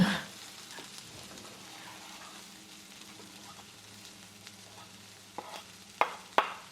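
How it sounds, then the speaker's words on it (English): A chickpea scramble with turmeric sautés quietly in a pan, giving a low steady sizzle, with a few sharper clicks and scrapes near the end. "So let that saute for 30 seconds until fragrant."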